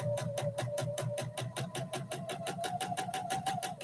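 Slow, regular needle strokes from a sewing machine stitching a quilt block, each stroke a distinct rhythmic thump with a steady motor tone underneath, close and clear.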